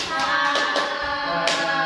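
Primary school children in an Indonesian civics classroom do the tepuk salut clapping chant: a few sharp, close hand claps punctuate young voices chanting in unison.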